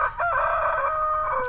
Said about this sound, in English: he looks like he's about to crow again